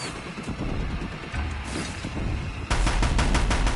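Rapid gunfire from the video game Horizon Zero Dawn, a steady rattle of shots that becomes a louder, denser burst in the final second, with no talking.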